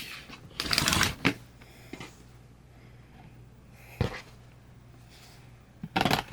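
A rotary cutter slices through quilt fabric along a seam for a nine-patch block, heard as a few brief, crisp scraping swipes with quiet pauses between them, close and fairly soft.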